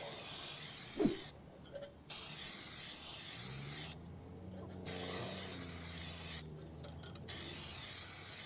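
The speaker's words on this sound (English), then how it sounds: "I just go through and spray the reel itself" Three separate bursts of aerosol spray onto a Toro reel mower's reel, each a steady hiss lasting under a second, with quiet pauses between them and faint background noise.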